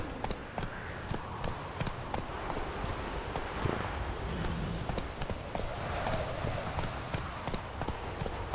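Galloping hooves of a horse in The Witcher 3 game, a steady rapid clip-clop running throughout at a close, even level with faint rustling around it and no talk.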